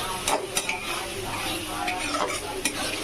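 Masala for matar poha being stir-fried in a pan: repeated spatula scrapes and clinks over a continuous low sizzle, close and fairly quiet.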